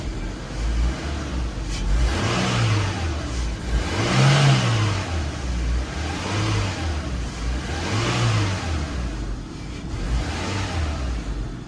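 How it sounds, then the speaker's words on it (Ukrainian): A Renault Megane 2 engine, just fitted with new Valeo alternator brushes, is revved repeatedly under the hood, rising and falling in four or five smooth, loud swells over a steady idle. "Погазуємо."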